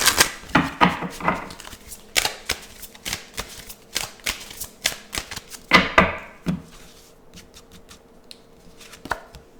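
Tarot cards are handled and shuffled during a card reading, giving a quick run of sharp papery slaps and riffles, loud and close with no talk over them, thinning out toward the end.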